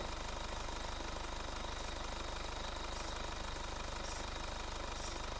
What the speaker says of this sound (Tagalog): RJ, patayin mo na yung makina para tahimik